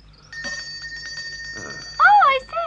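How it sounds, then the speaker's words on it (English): A garden gate bell rings with steady, bright tones in a cartoon scene, followed by a short, louder swooping chime near the end, with a voice talking at the same time. "I wonder why he's ringing the bell when the gate's already open."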